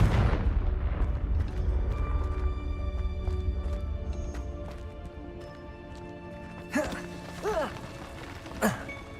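A Confringo fire spell blasts in the Hogwarts Legacy video game, a loud booming burst with a rumbling roar that slowly fades, followed by a few sharper crackling hits near the end.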